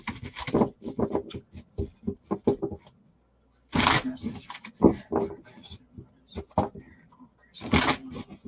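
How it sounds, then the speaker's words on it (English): Tarot cards riffled and shuffled in bursts of quick rasping flutters, with a pause midway, close and fairly loud, under occasional soft talk. "Sorry, I'm shuffling really loud."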